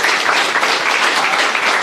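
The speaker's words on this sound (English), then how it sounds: "Let's have a round of applause." An audience gives a brief, loud round of applause at a talk on raising capital from angel investors, dense steady clapping throughout.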